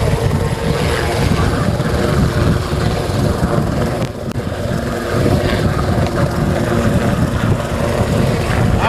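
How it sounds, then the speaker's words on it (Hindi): A helicopter landing at a political rally in the Shahpur area, a loud, continuous rotor and engine roar that holds steady throughout with a brief dip midway and no speech over it. "अब हेलीकॉप्टर लैंड हो रहा है"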